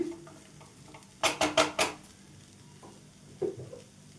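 Puffed rice upma being stirred in a pan, a spoon scraping and clinking against metal in a quick burst of four strokes, then a couple of softer scrapes later, with quiet gaps between.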